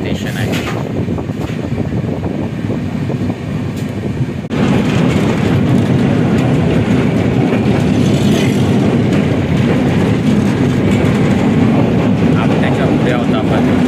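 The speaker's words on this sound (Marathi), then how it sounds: "आता आपण आपटा स्टेशनच्या इथं आपली ट्रेन थोडी स्लो झालेली आहे" Mandovi Express rumbling along the track as it slows near Apta station, a loud, steady rolling roar with faint rhythmic clatter that grows fuller partway through and continues without voices.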